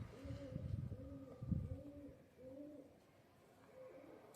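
Pigeons in a large low-flyer loft coo in soft, repeated rolling phrases, several calls overlapping at a moderate distance, fading and returning in a gentle rhythm.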